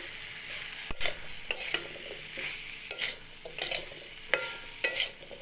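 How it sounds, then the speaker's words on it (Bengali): A spoon stirs fried eggplant, carrot and potato in a pan with sajne data (drumsticks), giving repeated sharp scraping strokes about every half second over a soft background sizzle, close and without voices. "দিয়ে দিচ্ছি ভেজে রাখা বেগুন গাজর আলু একই সাথে কচিয়ে নেব ভালো করে"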